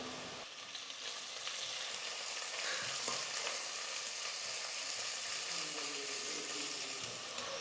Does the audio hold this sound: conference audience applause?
no